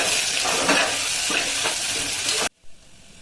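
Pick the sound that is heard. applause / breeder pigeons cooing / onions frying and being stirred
onions frying and being stirred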